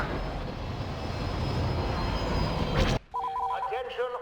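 A TIE bomber in the Star Wars Battlefront 2 video game, a loud continuous engine roar that rises to a sharp whoosh and cuts off abruptly, followed by a short electronic beeping tone pattern.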